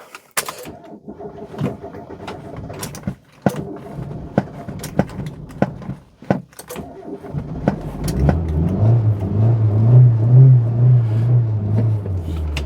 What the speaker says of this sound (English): Stick it in reverse and just pull her out.